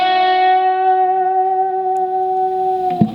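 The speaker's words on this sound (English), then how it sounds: "Trying to get a little bit of a pinch harmonic there." A single distorted electric guitar note from the second solo of a song, picked with a pinch harmonic so it rings with bright overtones, held for about three seconds before a short pick scrape ends it.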